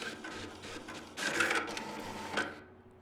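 Printer running in the Project Hospital video game, a quiet mechanical whirring and clattering feed that swells midway and fades at the end, no talk.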